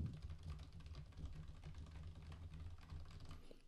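Rapid, continuous typing on a computer keyboard, a dense patter of key clicks heard up close with no voices.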